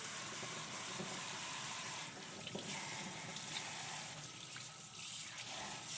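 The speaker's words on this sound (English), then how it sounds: "Give it a good rinse." Running water rinses VW MK2 car parts by hand, a steady broadband splashing and hiss that continues unbroken at close range, with no talking.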